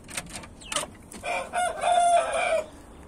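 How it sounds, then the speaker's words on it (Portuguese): A crested hen on a small farm gives a few short clucks, then a longer drawn-out call, close and moderately loud with no talk. "A galinha de crista."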